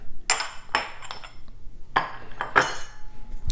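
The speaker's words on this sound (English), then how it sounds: "Whisking this together first breaks up the flour so there won't be any lumps." Sugar, flour and salt whisked together in a bowl for Portuguese orange cakes: a few sharp clinking metal scrapes against the bowl in quick bursts, close and clear, no talking.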